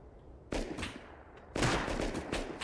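Bursts of gunfire in the video game Rust, two loud volleys of rapid shots close up, the second longer and sustained, with no talking over them.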